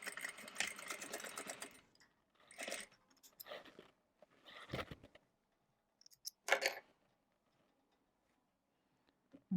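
A sewing machine stitching the second side of a fabric headband, running in short separate bursts with quiet pauses between them, close and moderately loud.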